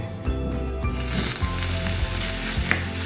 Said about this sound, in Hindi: अब मूंगफली फ्राई किए हुए बचे हुए तेल में ही हम डालेंगे 1 दालचीनी का टुकड़ा, 2 तेजपत्ता, 1 इंच ग्रेट किया हुआ अदरक